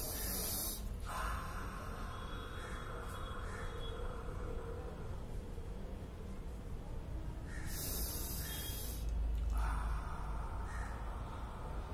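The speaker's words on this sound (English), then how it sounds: "I will take 3 deep breaths from the nostril," Deep meditative breaths taken in through the nostrils and let out through the mouth, several long broad airy rushes of breath with quieter gaps between, close and fairly soft, with no talking.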